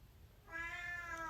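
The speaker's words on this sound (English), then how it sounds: "That's my cat, just in case you were wondering." A pet cat gives one clear, close meow rising out of a quiet room in a pottery studio.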